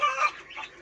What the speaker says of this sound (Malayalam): ഭംഗിയുള്ള കോഴിയാണ്.